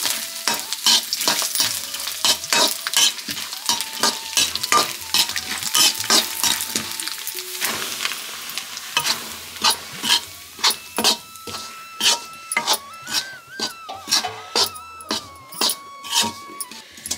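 Tempering spices sizzle and crackle in hot oil for jaggery halwa while a utensil scrapes and stirs the pan with steady, rhythmic strokes, close and fairly loud.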